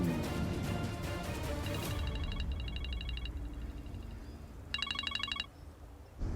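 Telephone ringing in a dubbed Turkish drama, a bright electronic ringtone sounding in two clear bursts after a stretch of dramatic music, fairly loud and close with no talking over it.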